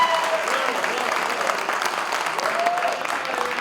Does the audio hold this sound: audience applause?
yes